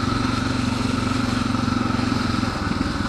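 A Suzuki DR dirt bike engine runs steadily while being ridden, a continuous close mid-pitched drone with a faint rhythmic pulsing and no voices, holding constant for about three seconds.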